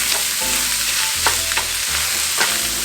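Onions browning in a frying pan give off a constant close hiss of sizzling, punctuated by a few clacks and scrapes of a utensil stirring, with no speech.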